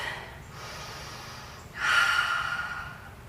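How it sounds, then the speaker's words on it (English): A big audible breath taken during a workout stretch, a long inhale followed by a stronger, louder exhale through the nose and mouth, close and alone with no speech. "Bring the hands into center, take a big breath."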